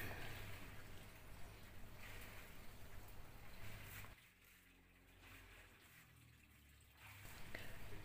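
Samsung top-loading washing machine drum turning during a wash cycle, a low churning slosh of water that drops to a quieter hum midway, then swells again.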